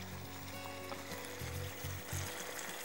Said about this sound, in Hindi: तो अब मैं डालूंगी दही